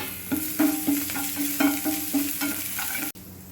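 Urad dal, curry leaves, chopped ginger and green chili fry in hot oil in a pan, stirred with a steady rhythmic scraping over a continuous sizzle, loud and close, ending abruptly.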